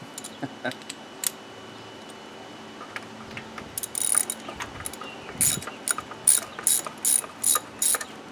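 A ratchet wrench tightens a compression tester fitting on a 1995 Nissan engine, clicking in scattered single turns at first, then in loud, close, rhythmic bursts of rapid ratcheting strokes near the end.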